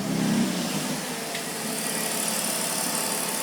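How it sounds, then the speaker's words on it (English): A BMW E46 325i engine left running during an oil change: steady, even idle hum with a broad hiss of noise, close and moderately loud, no talking. "Let the engine run."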